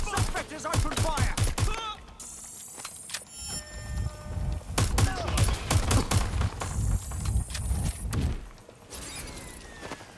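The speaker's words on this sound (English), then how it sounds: "Suspect has opened fire!" Gunfire in the video game Watch Dogs: Legion, with loud rapid bursts of automatic shots arriving in several volleys and brief pauses between them, with voices shouting in between.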